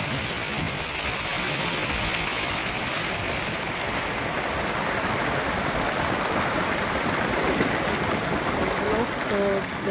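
Heavy rain pours steadily near a village pond, a dense, even hiss filling the whole stretch at a constant level, with faint voices now and then beneath it.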